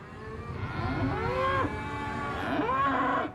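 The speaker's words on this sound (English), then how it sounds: "The ranchers bring their cattle from far and wide to market." Cattle at a large livestock market give two long, drawn-out moos, one after the other, fairly close and clear against a low murmur of background noise.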